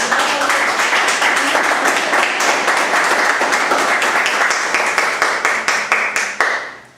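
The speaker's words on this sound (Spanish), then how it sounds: "Un aplauso." Loud audience applause in a church-style gathering, dense clapping that holds steady and then thins into scattered individual claps before stopping, with no voices.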